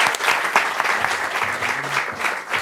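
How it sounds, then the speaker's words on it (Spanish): Forum audience at a seminar on forest fires breaks into applause, a dense, steady round of clapping with a few louder individual claps and faint murmurs beneath. "Un aplauso a Mauro."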